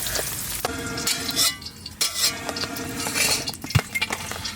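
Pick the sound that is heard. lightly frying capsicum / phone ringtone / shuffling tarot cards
lightly frying capsicum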